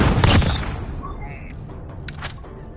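A powerful shotgun blasts once, loud and close, in a PS4 shooter, its boom trailing off into quieter game effects and a few faint later shots.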